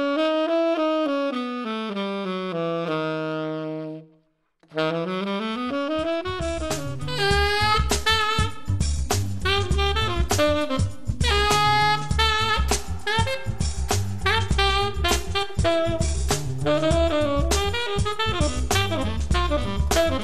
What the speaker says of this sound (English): I'll play the regular Mixolydian, then I'll play the same scale raising the fourth degree